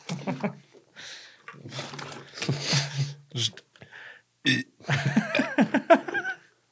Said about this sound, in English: having to listen to the burps